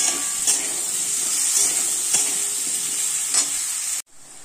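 Ground coriander, turmeric and Kashmiri chilli frying in a pan, a steady close sizzle with a few stirring scrapes, ending abruptly in near silence.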